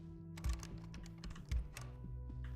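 Computer keyboard keys pressed while playing Disco Elysium, a close run of clicks with a few heavier thumps, set over a low steady hum and no talking.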